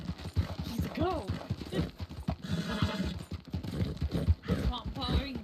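Horse hooves clip-clop in a steady rhythm through the RedM western game world, close and clear, while several people talk over them throughout.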